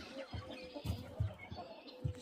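Chickens cluck in a backyard coop that holds young Brahma chicks, giving a few short, low clucks spread across a couple of seconds over a soft, steady background of other birds.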